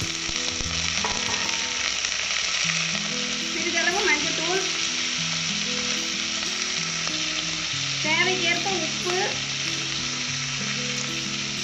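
Cut drumstick pieces frying in oil alongside crushed onion in a pan, a loud continuous close sizzle with occasional stirring scrapes and a faint tonal hum in the background.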